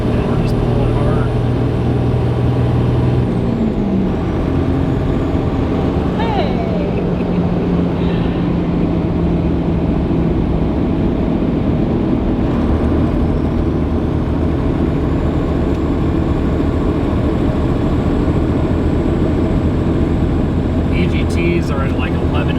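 A 3-link, 1-ton Land Cruiser pulls hard on the highway, its engine droning loud and steady beneath heavy road and wind roar, the pitch shifting slightly as it accelerates.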